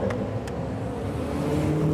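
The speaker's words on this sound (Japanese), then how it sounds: "エンジンかかりました。" Race car engines drone steadily in the distance at a Toyota 86 and Subaru BRZ race, a constant low rumble with a slight whir, no single car standing out.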